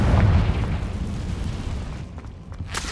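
A Confringo blasting spell goes off in Hogwarts Legacy, a loud booming explosion with a heavy low rumble that rolls on and slowly fades over a few seconds, with a sharp crackle near the end.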